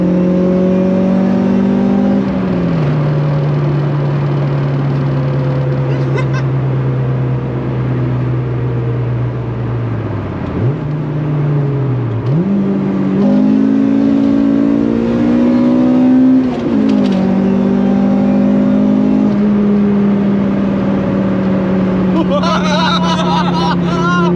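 A Honda Civic EG5 with a swapped-in Integra Type R engine drones loudly from inside the cabin, pitch climbing under acceleration, dipping, then rising again as it pulls in fourth gear; voices talk over it.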